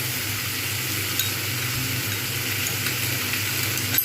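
Flat beans, potatoes and rohu fish sizzle steadily in a pan with spices while being stirred, a continuous soft frying hiss with occasional faint scraping clicks, no talking.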